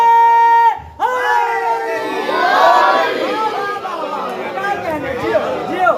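A large crowd at a religious gathering in Peshawar shouts a loud, unified slogan response right after a speaker's sustained call, the massed voices swelling and then trailing into chatter.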